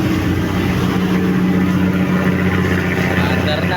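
A boat engine in a video game ferry ride from Batan port toward Kalibo drones loud and steady, a constant humming rumble with no pauses, and voices may sit faintly beneath it.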